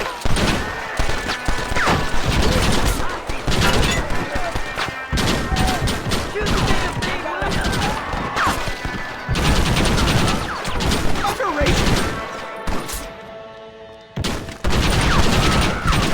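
A Red Dead Redemption shootout at a fort: rapid volleys of gunshots crack close and dense, with crashes and thuds, shouting voices over the din, and a brief lull near the end before the firing bursts back in.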